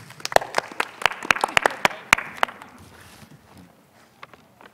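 A short burst of scattered hand claps, sharp and uneven, fading out after a couple of seconds into quiet room noise.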